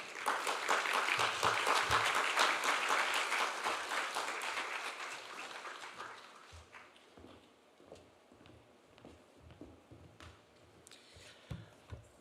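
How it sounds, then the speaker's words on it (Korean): Applause from a church congregation at a Sunday service, welcoming a pastor to the front: a dense, loud burst of clapping for about six seconds that gradually thins into scattered claps and fades, with faint voices at the end. "나오실 때 큰 박수로 환영해 주시기를 바랍니다"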